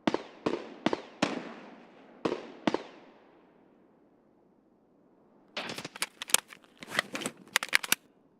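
Gunfire in Escape from Tarkov: a burst of sharp single shots with short decaying echoes, then quiet, followed by rapid clustered shots from an exchange, loud and close.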